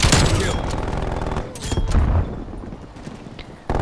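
Rapid gunfire in the shooter Call of Duty: Black Ops Cold War, bursts of loud close shots and impacts aimed at a turret, dense crackling volleys fading then cutting off abruptly.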